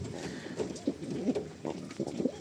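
A pet bird, a pigeon or dove, coos in soft repeated low phrases at close range against faint room noise.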